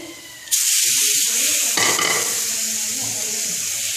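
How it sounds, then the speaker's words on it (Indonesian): Mie goreng noodles hitting a hot pan with a sudden loud sizzle, followed by steady frying hiss and scraping stirring sounds, close and continuous with no talk. "ini cara memasak mie goreng"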